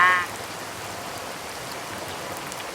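Steady rain hisses down, dense and even throughout, after a short tonal sound fades at the very start.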